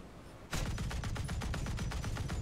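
A .50 caliber machine gun firing in the naval game World of Warships, starting abruptly after a quiet moment and then going on as a fast, loud, steady stream of rapid shots with no talking.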